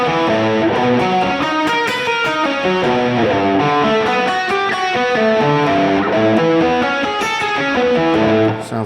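Distorted electric guitar plays major-seventh arpeggios in a lead style, a steady stream of bright, sustained notes with effects, loud and continuous with no talking.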